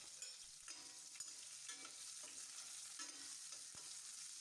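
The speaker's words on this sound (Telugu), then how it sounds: "ఉల్లిపాయలు కూడా ఒకసారి వేయించుకొని" Chopped onions frying in a pan with cashews, giving a steady hiss of sizzling oil with soft scrapes of a spoon stirring, close and continuous, no voices.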